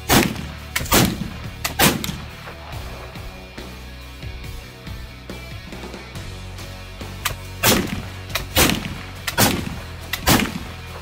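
Traditions Kentucky muzzleloader rifle firing outdoors, loud booming shots with long rumbling decay, heard as a cluster of reports at the start and another run of several shots toward the end.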